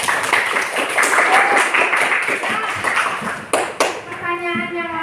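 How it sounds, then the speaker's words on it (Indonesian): An Indonesian primary school class claps together in a dense, loud burst of hand claps lasting several seconds, which then stops as voices take over. "tepuk tangan buat Rivo."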